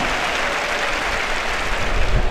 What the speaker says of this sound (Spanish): Fuerte el aplauso para Simón Gómez de Museros, para Cristian B